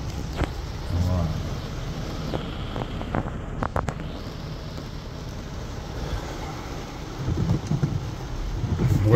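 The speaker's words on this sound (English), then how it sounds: "so you can appreciate how much rain is falling on me" Torrential rain in Boca Raton drums steadily on a car roof, a dense continuous wash of noise with a few sharper knocks and bursts along the way.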